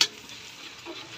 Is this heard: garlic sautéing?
yes